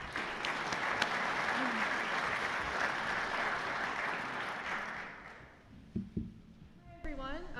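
An audience claps steadily for student panel speakers at a scholarship panel discussion, loud and sustained for about five seconds before fading, followed by a few bumps and then a voice beginning to talk.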